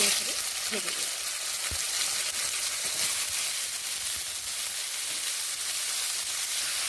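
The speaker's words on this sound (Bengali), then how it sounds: "কড়াইতে আরও একটুখানি তেল দিয়ে নিয়েছি এবার আমি ফুলকপিগুলো" Cauliflower pieces frying in oil in a wok give a steady, moderately quiet sizzle with a few faint clinks and stirring sounds.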